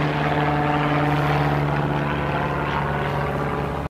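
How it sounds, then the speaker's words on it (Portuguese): A fixed-wing propeller airplane passes overhead on a Saturday in Brasília, a steady loud droning hum with strong low tones that holds evenly for about four seconds and cuts off abruptly at the end, with no talking. "Durante essa gravação eu tive que lidar com o avião passando."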